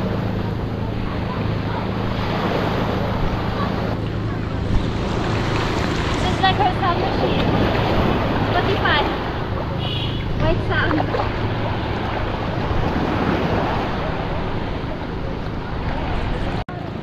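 Ocean waves wash steadily at a beach, a broad continuous surge with wind buffeting the microphone throughout, while voices talk over the surf.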